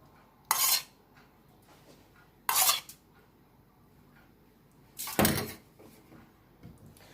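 Three separate bursts of crisp clattering as cut bread cubes for Caesar salad croutons are tossed in a bowl, spaced a couple of seconds apart, with quiet between.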